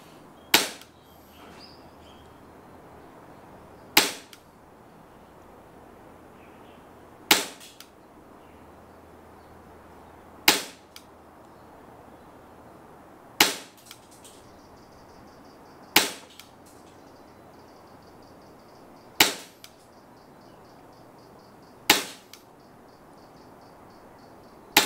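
A WE G26 airsoft pistol fitted with an Acetech tracer unit fires single sharp, close shots, nine in all, spaced about three seconds apart, with quiet between them.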